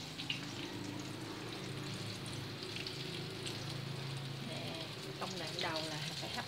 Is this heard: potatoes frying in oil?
yes